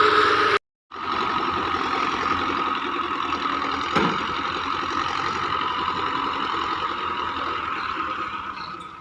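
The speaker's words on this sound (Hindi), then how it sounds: "छोटा ट्रैक्टर मिला था, 16 फुटा ट्राला" A small tractor hitched to a 16-foot trailer idles with a steady, even mid-pitched engine drone that stays close and constant after a brief dropout near the start, with no talking.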